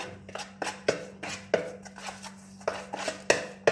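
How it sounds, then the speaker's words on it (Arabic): Shawarma marinade ingredients mixed in a bowl before sardines are added, heard as a string of sharp, close knocks and scrapes of a utensil against the bowl in an uneven rhythm, with no talking. "غادي نمزج ان شاء الله المكونات مع بعض جيدا"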